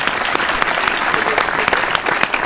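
A studio audience gives loud applause for Ajay Agarwal of Laxmi Misthan Bhandar, a thick, continuous crackle of many hands with sharper individual claps standing out.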